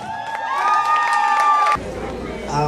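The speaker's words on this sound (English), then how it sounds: "a round of applause as we welcome the Yoruba bride" Crowd at a bridal show cheering and whooping for a Yoruba bride's entrance, loud high sustained shouts that cut off abruptly into lighter hubbub and scattered clapping.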